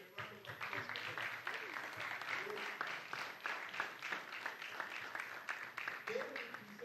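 An indoor audience at an ICT conference claps for secondary school students, giving steady, dense applause that carries on for several seconds while a voice talks faintly over it.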